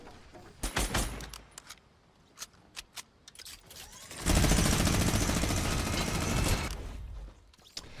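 Minigun fire in a video game: a few scattered sharp shots early, then a dense, sustained burst of rapid fire for over two seconds before cutting off, faint overall.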